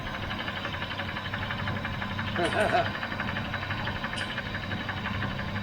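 A rough 1973 Pontiac LeMans engine, unused for 25 years, idles steadily, with a faint repetitive ticking lifter knock running through the rumble and a brief louder rev partway through.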